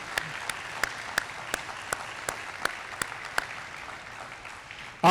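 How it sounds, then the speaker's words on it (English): Audience applause at a basketball jersey retirement ceremony comes through as sparse, evenly spaced sharp claps at moderate level in a reverberant hall, fading toward the end. "Give them all a round of applause again."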